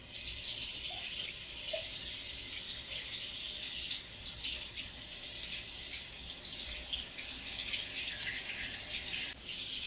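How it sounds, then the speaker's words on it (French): Hot tap water runs steadily into a sink, with a continuous hiss and splash as plastic container elbows are washed under the stream for about ten seconds. "Dévissez les coudes des contenants et nettoyez à l'eau chaude."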